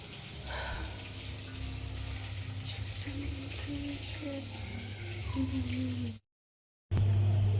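Malpua batter frying in hot oil during home cooking for a Janmashtami celebration, a steady bubbling sizzle with watery hiss running throughout, briefly cutting out near the end before resuming; no talking.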